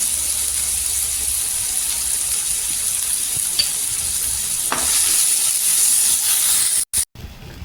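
Tomatoes sauté in hot oil in a pan, giving a steady, close sizzle and hiss that holds throughout, with a brief stir partway and a short cut near the end.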